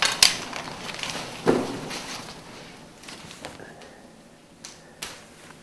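Whole hog being broken down for North Carolina barbecue, head and feet taken off: a few sharp knocks and cracks of blade and bone, then softer scraping and scattered clicks, close and with no talk.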